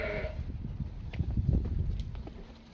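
Sheep bleating at an outdoor livestock market, a couple of short calls rising above a steady low crowd and yard rumble, with brief higher cries near the start and middle of the clip.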